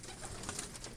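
A racing pigeon coos softly in a loft, a brief low murmur set within a dense, noisy background and heard alone without speech.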